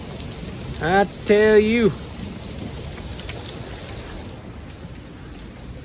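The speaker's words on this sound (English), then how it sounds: "I told you there was gonna be a storm." Steady, heavy rain from a storm patters on surfaces in a dense, even hiss, and someone speaks briefly over it near the start. No distinct thunder stands out.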